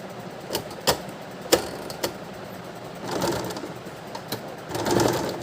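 Stitching blouse pieces with fine, short stitches, a sewing machine gives a few sharp clicks and ticks followed by two short bursts of quiet, close running.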